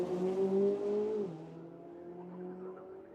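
A race car on the Vila Real street circuit powers downhill, a loud engine tone holding high and then dropping sharply in pitch as it shifts or passes, settling into a lower steady drone at moderate distance.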